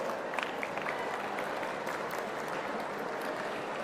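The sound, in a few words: students cheering and applauding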